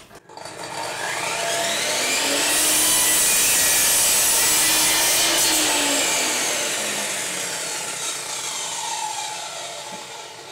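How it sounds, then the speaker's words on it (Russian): A miter saw fitted with a soft start spins up and cuts a large four-metre wooden beam in half, its motor whine swelling into a loud, sustained grinding cut before easing off, with no talking. "Ну и сейчас попробуем распилить просто вот большой 4-метровый брусок"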